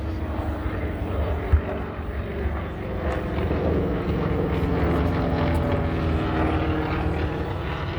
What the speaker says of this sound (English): Look at the so, SBD Dauntless right here, high and to the right.